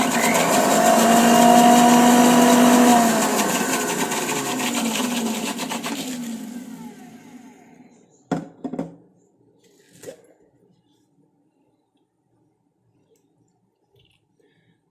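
A kitchen mixer grinder whirs loudly while blending butterfly pea flowers, then spins down after about seven seconds, followed by a few sharp clicks and knocks of the jar.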